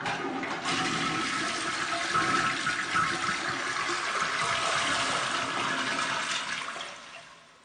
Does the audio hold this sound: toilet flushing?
yes